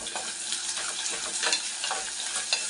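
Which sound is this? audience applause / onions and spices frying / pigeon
onions and spices frying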